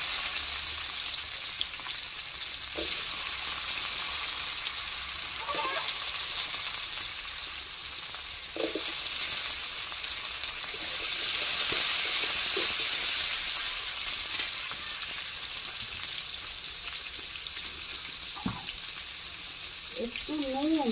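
Potatoes fry in oil with a soft, continuous sizzle, faint and close, broken by occasional light clinks of a utensil.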